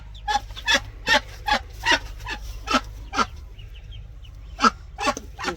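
Ducks at a farm in Thailand, where a mother duck is tending her 17 ducklings, give a string of sharp, rhythmic quacks, fairly close, about a dozen calls spaced irregularly over a low steady background hum.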